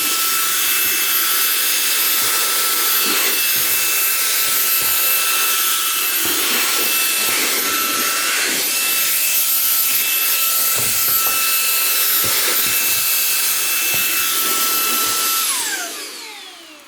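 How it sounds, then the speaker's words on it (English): A Shark Wandvac 2.0 handheld vacuum runs steadily with a high, whining motor hum, first in regular mode and then in boost. Faint rubbing and debris clicks sit beneath the drone before it winds down at the end. "I'm gonna put the vacuum on to regular and then boost."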